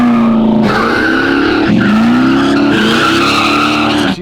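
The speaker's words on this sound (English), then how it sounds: "do great little burnouts" A 1966 Chevy Nova does a burnout: loud, continuous tire squeal over a revving engine, the pitch dipping and rising a few times before cutting off abruptly, close and alone.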